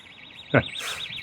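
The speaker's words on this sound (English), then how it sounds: "the sound of a house alarm going off" A warbling electronic house alarm wails steadily at a distance in a coastal town in Fife, rising and falling in a regular siren pattern, with a brief thump in the middle.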